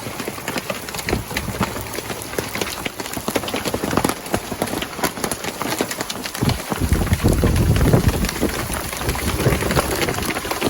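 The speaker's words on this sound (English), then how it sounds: "That's right. Hailstorm." Hail pelting a sailboat's deck and canvas, a dense crackling patter of many hard impacts that swells louder partway through, close and continuous with wind behind it.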